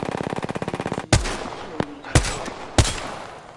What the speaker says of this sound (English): I am taking fire. I need help.